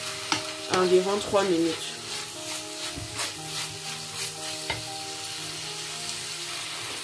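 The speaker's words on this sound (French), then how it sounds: "Je remue et je vais baisser le feu pour laisser ma viande hachée cuire" Minced meat is stirred as it fries in a pan, with a soft sizzle running under scattered spatula scrapes and knocks, while someone speaks briefly near the start.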